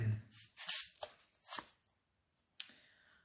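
Crisp riffling and snapping of a tarot-style deck of cards being shuffled, a few quick bursts close by, then a single sharp card slap after a quiet pause.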